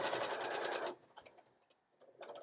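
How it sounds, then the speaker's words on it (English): A sewing machine runs a fast basting stitch on a zippered fabric bag for about a second, close and steady, then stops, leaving faint clicks and handling noises. "Doing proper basting."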